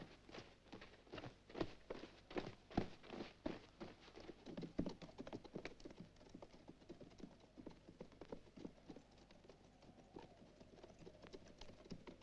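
Hooves clip-clop steadily on hard ground as several horses walk along, an irregular overlapping rhythm, close by with no talking.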